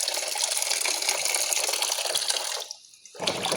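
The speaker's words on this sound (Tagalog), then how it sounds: "ayan, hugasan natin itong patatas" Potatoes are washed under a running kitchen tap: a loud, close gush of water that cuts off briefly near the end, then splashes back on.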